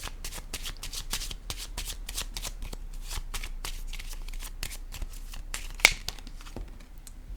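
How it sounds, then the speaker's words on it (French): Tarot-style cards being shuffled by hand before a card is drawn, a steady run of close, crisp riffling flutters with one sharp snap near the end. "Je vais piger une autre carte."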